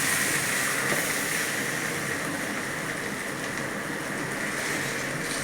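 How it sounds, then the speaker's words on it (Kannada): Water poured onto rice in a pot for chicken biryani, a loud, continuous hissing splash that holds steady for several seconds with no talking. "1 ಗ್ಲಾಸ್ ಅಕ್ಕಿಗೆ 2 ಗ್ಲಾಸ್ ನೀರು ಹಾಕ್ತಾಯಿದ್ದೇವೆ."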